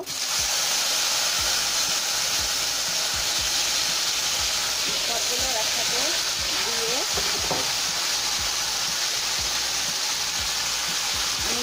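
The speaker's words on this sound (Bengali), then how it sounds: "এখন আমি আরো ঢেঁড়স একসাথে ভেজে নিব" Okra frying in oil in a pan alongside small fish, with a steady broadband sizzle filling the whole stretch and some stirring noises underneath.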